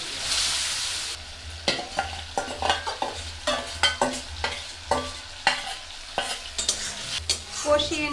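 Whole garam masala (bay leaf, cinnamon, cloves, cardamom) and tomato sautéing in hot oil for biryani, a steady close sizzle broken by repeated scraping stirs of a spatula in the pan.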